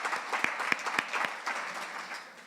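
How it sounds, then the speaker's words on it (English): Audience applause in a hall, a dense burst of clapping with a few sharper individual claps, steady and fairly loud, then slowly thinning toward the end. "Can we give them a big applause?"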